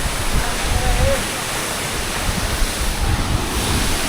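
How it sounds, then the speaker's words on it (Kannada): A waterfall near Honnavara on a trekking route gives a constant, loud rushing roar, heard close and unbroken with some wind buffeting the microphone. "ಫಾಲ್ಸ್ ನೋಡಿ ಬ್ರೋ, ಫಾಲ್ಸ್ನ."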